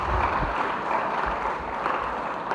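A school audience applauds contestants at a circuit science and maths quiz semi-final, a short, steady burst of clapping that fills the room without any talk.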